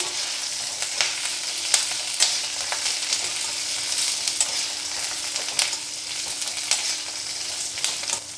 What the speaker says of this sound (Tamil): உளுத்தம் பருப்பை நல்லா சவக்க வறுத்துட்டேன் இதில் பச்சை மிளகாயும்